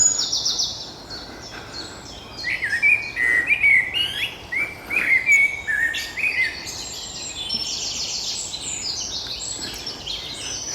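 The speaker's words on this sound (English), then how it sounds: "the reason I stopped was the birds." Several birds sing in the woods of Brereton Heath Local Nature Reserve, with bright overlapping chirps, trills and whistles that come in clear close bursts over a quiet background, with no voices.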